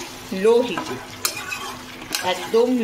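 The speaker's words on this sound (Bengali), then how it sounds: "এইবারে এই পেস্টটা দিয়ে" Chicken sautés on low heat with tomato, ginger and garlic paste as a utensil scrapes and stirs the pan, giving squeaky scrapes and clinks over a soft, continuous sizzle.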